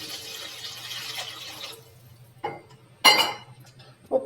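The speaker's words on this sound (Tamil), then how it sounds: "ரெண்டு பாக்கெட் சேமியாக்கு ஏற்ற தண்ணி ஊற்றிக்கலாம்." Water poured into a pan over spiced, stirred masala while making egg vermicelli, a steady splashing fill for about two seconds, then a few clinks and knocks of a utensil against the pan.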